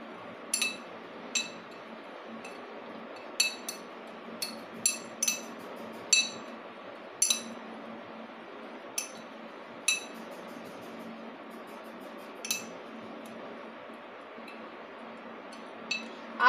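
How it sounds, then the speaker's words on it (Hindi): Spice masala stirred with a spoon in a bowl while making stuffed arbi, heard as sharp metallic clinks scraping against the bowl at irregular intervals, fairly close over a faint steady background hum. "अब इस मसाले को हम मिक्स कर देंगे।"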